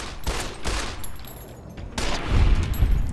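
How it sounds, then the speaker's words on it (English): Gunfire in the video game Fallout New Vegas, a few loud separate shots with reverberant tails, followed by heavier booming rumble near the end. "Shoot him again, please."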